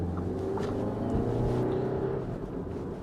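Engine of a 2021 Audi Q3 S Line compact SUV accelerating in dynamic drive mode, a steady droning hum rising slightly in pitch inside the cabin, with no talking.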